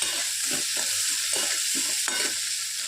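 Small crabs with spices sauté in a pan, a constant close sizzle broken by rhythmic scraping strokes of a stirring spoon, with no voices.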